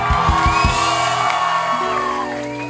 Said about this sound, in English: Applaudissez-vous, c'était une putain de soirée.